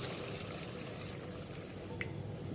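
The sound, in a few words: tender coconut water poured into curry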